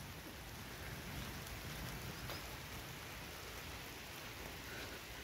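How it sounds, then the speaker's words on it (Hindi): Steady, dense heavy rain pours down in Sunderkhal village near Jim Corbett, a continuous broadband hiss with no pauses and no voices. "तो अभी गाइस बारिश हो रही तेज"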